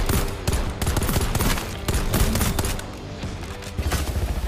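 Rapid gunfire from the open-world extraction shooter game Exoborne, with dense bursts of shots and booms crackling across the whole stretch, loud and close.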